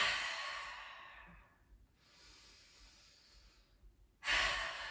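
Deep breathing during a shaking meditation: a long sighing exhale fades out, a softer breath follows, then a strong close inhale begins.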